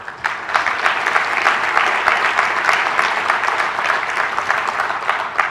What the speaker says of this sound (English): So let's get a big round of applause for our sponsors.